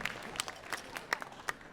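A gala audience applauds with a faint, sparse spatter of individual claps, unevenly spaced, as though only a few people are clapping at a distance.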